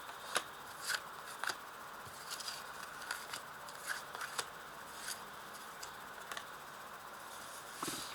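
Tarot cards are shuffled and laid down one by one on a table, giving soft scattered flicks and snaps at an irregular pace, close and quiet.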